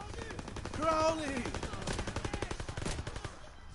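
Rapid bursts of gunfire from a World War II video game campaign crackle in quick succession, mixed with game sound effects and a tonal cue, fairly faint overall.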